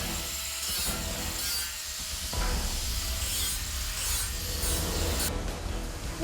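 An angle grinder smooths the rough, sharp edges of steel on a custom-built portable swimming pool, a steady close abrasive rasp running continuously with slight surges in intensity and no talk.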